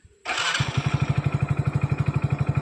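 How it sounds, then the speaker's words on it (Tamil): A Hero Splendor+ motorcycle in good condition starts on its self-starter with a brief whir and catches at once, then settles into a loud, close, steady single-cylinder idle with an even putting rhythm. "வண்டி செல்ஃப் போடுறேன்."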